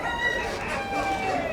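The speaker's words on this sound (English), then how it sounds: "Is there a chicken in there?" Chickens cluck and crow at a live animal market in Salvador, Bahia, a rooster's call rising above steady crowd chatter and bustle, with people talking nearby.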